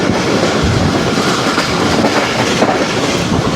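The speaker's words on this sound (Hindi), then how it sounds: "बिन कासिम रेलवे स्टेशन में ज़िंदगी में पहली बार देख रहा हूँ डाउन साइड पे इतनी स्पीड में गुजरता हुआ।" Pak Business Express train speeding through Bin Qasim railway station on the down line, a loud, continuous roar of rolling wagons with steady clickety-clack of wheels over rail joints, close by and without pause.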